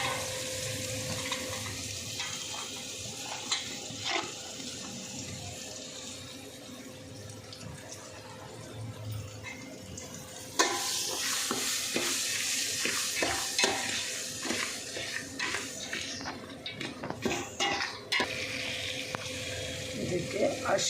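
Onions sautéing in a pan with curry leaves and star anise for mint rice, a continuous sizzle broken by repeated scraping stirs, with faint background voices.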